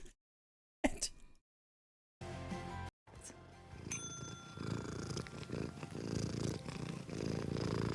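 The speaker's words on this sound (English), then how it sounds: "That is a very loud purr." A cat purring very loudly close up, a steady low rumble that starts after a few seconds of silence and brief noises, then continues unbroken and strong to the end.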